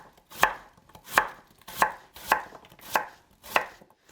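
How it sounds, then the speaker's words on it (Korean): A knife chops radish into thick slices for a pollock stew, six crisp, evenly spaced cuts on a board, close and fairly loud with quiet gaps between them. "무를 자르세요. 그렇게 얇게 썰지 않아도 됩니다. 도톰하게 이런 식으로."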